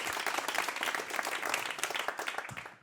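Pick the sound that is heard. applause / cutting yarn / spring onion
applause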